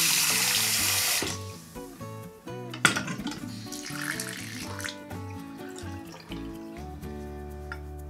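Water gushes loudly from a newly installed bathroom sink faucet, then shuts off, followed by drips, clinks and a faint musical tone.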